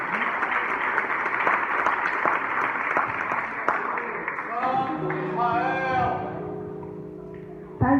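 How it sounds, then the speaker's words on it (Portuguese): Congregation in a church clapping in applause, a dense steady patter throughout, before music and singing voices rise in the second half. "Recebe a serva de Deus com as palmas de vitória."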